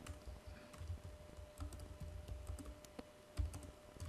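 Close, quiet typing on a computer keyboard, a quick irregular patter of key clicks with a few harder taps, steady throughout with no voice.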